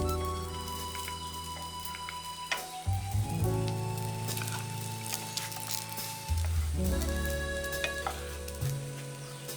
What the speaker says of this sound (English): We're going to sear all sides possible